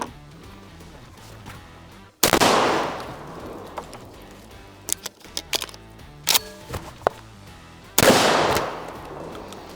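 A Beretta A300 Patrol semi-automatic shotgun fires two loud, sharp blasts a few seconds apart outdoors, each followed by a rolling echo, with handling clatter between the shots.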